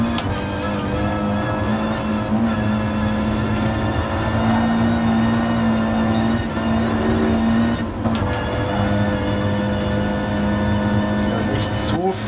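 Loud, unbroken full-throttle engine roar from an Audi TT Cup car in GT Sport, holding a sustained high rev with slight pitch shifts while someone speaks over it.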